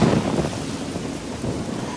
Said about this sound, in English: I forgot that it rains so much in Cyrodiil.